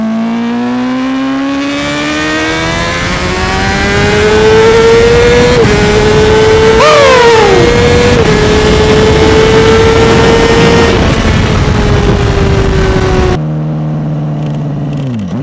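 A Honda CBR600RR sport motorcycle engine revs hard and climbs through the gears with a loud, close, high-pitched wail, dipping briefly at each shift before easing off to a lower hum near the end.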